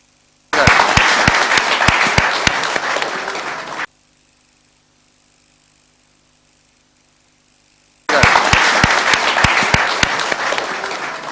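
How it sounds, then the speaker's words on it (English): An indoor audience at a social business design lab applauds in two loud, dense bursts of clapping, separated by a few seconds of near silence. "Can we please have a round of applause?"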